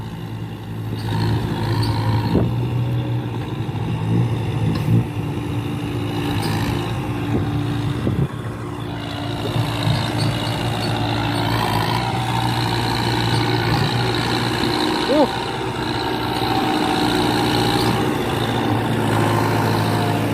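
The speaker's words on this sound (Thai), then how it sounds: "รถไถกำลังเคลียร์ทางครับ" A tractor clearing a road rumbles steadily nearby, idling and working with a constant low drone and occasional clanks.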